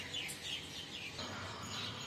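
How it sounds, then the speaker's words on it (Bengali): Morning birds chirp outdoors under open sky, with faint, scattered high tweets over a soft background hush. No one speaks. "পাখির কিচিরমিচির ডাক"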